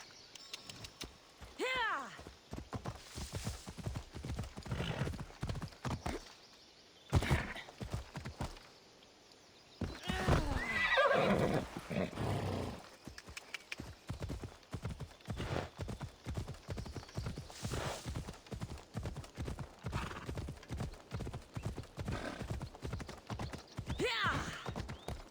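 Horse hooves clip-clop in a steady rapid rhythm while galloping in the Assassin's Creed Odyssey video game, loud and close, with a brief whinny near the start and a pause around seven seconds before the pounding resumes.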